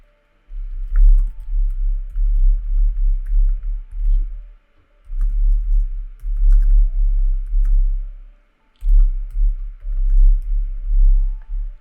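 Typing on a computer keyboard comes through as muffled, dull tapping in several sustained runs, broken by short pauses.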